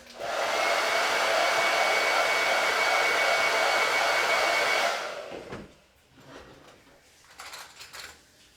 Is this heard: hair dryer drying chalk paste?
yes